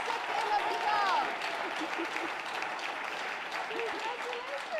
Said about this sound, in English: Let's give this teacher a round of applause